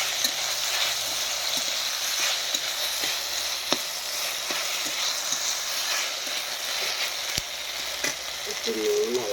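Rice fries in a pan with mustard, chilli and bay leaf, giving a steady close sizzle and hiss with soft scraping stirs throughout.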